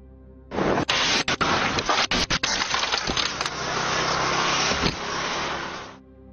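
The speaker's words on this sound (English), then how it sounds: "This video shows a Vespa getting hit because two cars crashed" A roadside collision between two cars that ends with a Vespa scooter being hit: loud, harsh crunching and a rapid string of sharp impacts, then a rumbling, scraping tail that fades out after a few seconds.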